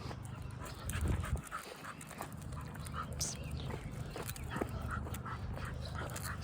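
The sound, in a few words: dog panting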